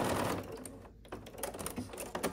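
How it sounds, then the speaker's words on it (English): A sewing machine with a quarter-inch foot stitches quilt pieces together. It runs as a steady, close mechanical whir with a brief pause partway through, and no one speaks. "I'm just going to start sewing these pieces together"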